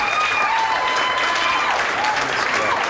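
A comedy club audience claps in a brief, even burst of applause that holds steady throughout, with a voice faintly audible over it.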